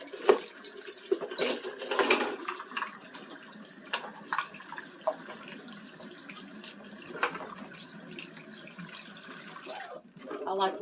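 Dishes are washed under a running hot tap, with cutlery and pots clinking and clattering close by over a steady stream of water, then a brief pause before the splashing resumes.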